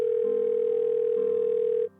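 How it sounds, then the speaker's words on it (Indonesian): Telephone line tone during an outgoing call to a radio show: a steady electronic tone plays for almost two seconds, then cuts off sharply. It is fairly quiet and has no voices over it. "Kita telepon dulu orangnya."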